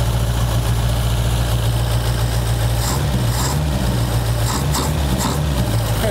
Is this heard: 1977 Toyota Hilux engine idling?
yes